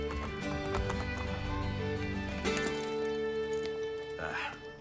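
Horse from Assassin's Creed: Brotherhood neighs and whinnies over steady clip-clopping hooves, with game music and ambience underneath and a louder neigh toward the end.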